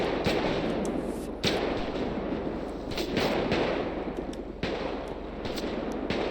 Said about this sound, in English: It sounds like semi-automatic gunfire, but it's hard to tell in this game.